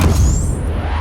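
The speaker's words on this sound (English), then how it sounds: "as well as a deep blast." A deep cinematic blast sound effect for a Lamborghini Revuelto, a loud low boom that fills the full second with heavy rumble and a faint rising whoosh on top, no voices.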